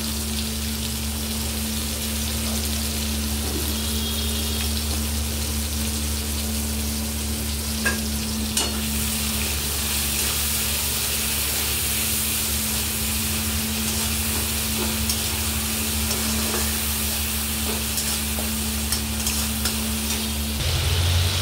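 Tomatoes sizzle and fry steadily in a pan of hot oil for a chicken curry, making a loud, continuous crackling hiss with a low hum underneath and an occasional stir, and no voices.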